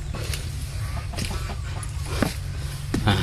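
Poultry cluck and squawk in short scattered calls over a steady low outdoor hum, fairly close, with no talking.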